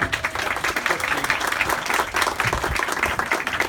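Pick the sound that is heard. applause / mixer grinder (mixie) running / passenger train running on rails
applause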